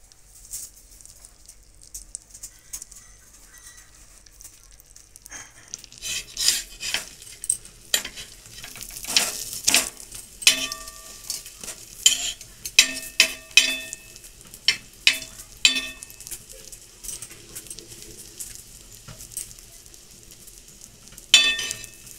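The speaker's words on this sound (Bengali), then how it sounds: "একটু বাটার দিয়ে দিচ্ছি," Butter sizzling in a pan with a homemade bread omelette, a faint crackling fry that builds into close spatter and scraping clicks after a quiet start.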